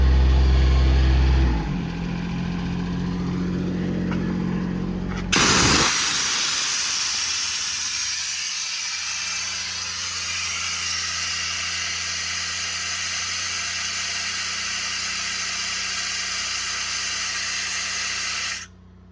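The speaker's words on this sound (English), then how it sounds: "Run the compressor. Your compressor switch is right here. Turns the compressor on." An EnPak air compressor runs on a 2016 Ram 5500 service truck with a Cummins diesel. A low engine drone gives way to a loud, steady hissing roar that holds for over ten seconds, then cuts off abruptly.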